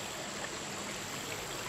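Creek water flowing near Brandywine Falls in Cuyahoga Valley National Park, a faint, steady broadband rush with no voices.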